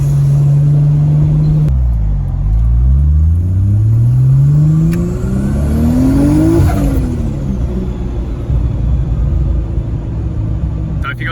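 Nissan Skyline R33 with a turbocharged RB25 engine running on a dyno, loud and close, revs climbing and dropping repeatedly through sweeping pulls under steady roaring drone.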